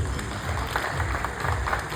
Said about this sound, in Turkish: Kuvvetli bir alkış rica ediyoruz.